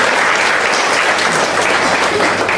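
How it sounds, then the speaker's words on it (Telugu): An audience gives loud, sustained applause, a dense wash of clapping from many hands that stays steady throughout. "ముందుగా అమ్మాయి గట్టిగా చప్పట్లు కొట్టి అభినందన తెలియజేయండి"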